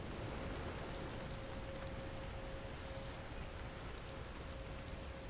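Video-game rain falls as a faint, steady hiss with no breaks, heard alone and without any voices over it.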